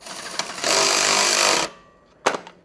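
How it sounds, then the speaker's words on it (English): A power tool tightens the frame nuts on a Sobowo FAT electric tricycle during assembly. It gives one loud, close, steady whirring burst of about a second, preceded and followed by brief clicks and knocks. "I'll get it into a nice position and I'll come along and tighten up these nuts."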